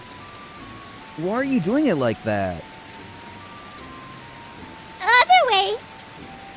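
Steady rain falling on a surface, a soft continuous hiss in the background throughout, with two short bursts of animated speech over it.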